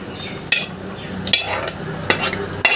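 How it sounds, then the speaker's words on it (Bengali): Fried drumsticks and bottle gourd are added to a simmering pot of masoor lentil dal. A spoon clanks against the pot several times over a soft bubbling and sizzle, and no one speaks. "আর দিয়ে দিচ্ছি ভেজে রাখা সাজনা ডাঁটা আর ওই লাউটা।"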